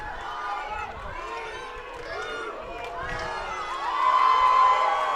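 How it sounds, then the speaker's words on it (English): Travelling Adelaide fans cheer at the Melbourne Hockey Cup Tier 2 final, a loud crowd roar with shouting and a whistle that swells toward the end, while a commentator talks over the noise. "And the crowd in front of us goes wild."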